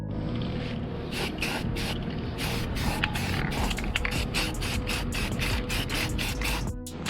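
Primer sprayed in repeated short bursts onto a scuffed truck part, each hiss close and loud with brief gaps between passes, over a steady background hum.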